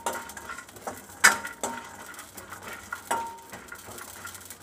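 Whole spices for a village-style mutton masala curry are dry-roasted in a pan over a medium flame. Scattered metallic scrapes and clinks from stirring sound up close over a faint background hiss, and no one speaks.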